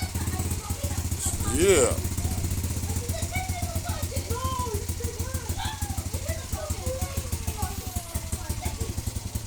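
A restored motorcycle engine idles steadily up close with a fast, even putter, briefly revving near the start, while birds chirp in the background and a voice speaks a single word.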